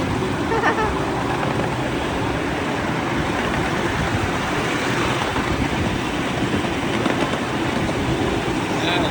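Continuous rumbling and clattering of a small train running, loud and steady throughout, with faint voices mixed into the noise.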